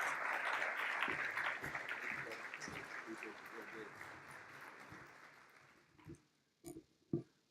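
An audience applauds as Van Jones is welcomed to the stage at an Operation Reform event, a dense, sustained wash of clapping that gradually fades, then gives way to a few isolated knocks and handling noises at the end.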